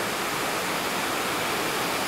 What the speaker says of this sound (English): It is pouring down rain here